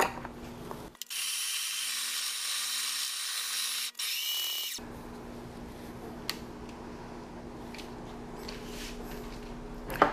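The built-in grinder of a Breville Barista Express grinds 19 grams of coffee beans at grind size 5, a steady whirring burst of about four seconds followed by quiet kitchen ambience and a few soft clicks.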